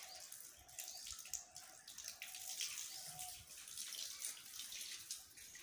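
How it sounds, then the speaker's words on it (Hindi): Hot water is filled and poured at a temple, a steady gushing, splashing flow with faint repeated tones behind it, heard at moderate distance without talking. "सफाई कर रहे हैं, गर्म पानी भर रहे हैं।"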